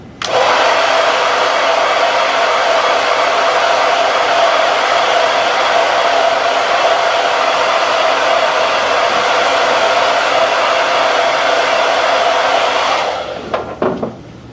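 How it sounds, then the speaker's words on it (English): A hair dryer blows with a loud, steady whoosh for several seconds before switching off, followed by a few faint clicks. "Now I'm going to just quick dry this with a hair dryer."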